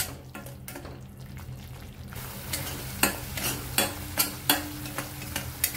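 Ground raw onion paste sautés in oil in a pan for chole masala, frying under a continuous hiss while a spoon scrapes and stirs in sharp, irregular strokes, growing busier and louder partway through, close by without speech.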